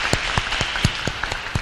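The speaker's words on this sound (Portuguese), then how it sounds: "Ele merece a salva de palmas" Applause for a pastor closing a personal finance lecture, with a few louder individual claps standing out at a loose rhythm over a lighter crowd clapping.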